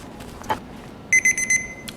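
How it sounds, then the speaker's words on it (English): A cheap kitchen timer rings while baking browned butter chocolate chip cookies, giving a single short chirp followed by four quick, loud, shrill electronic beeps in a row with nothing else around them. "Okay, that is our 3-minute timer."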